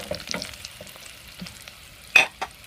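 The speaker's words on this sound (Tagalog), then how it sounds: "Haluin lang natin siya" Braised baby potatoes are stirred in a pan on a portable gas stove, with a few soft scrapes and clinks over a faint sizzle, then a sharper clatter near the end.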